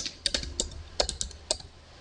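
A computer keyboard being typed on while entering a collection name in Lightroom: about a dozen crisp, close key clicks in a quick uneven run, with no talking.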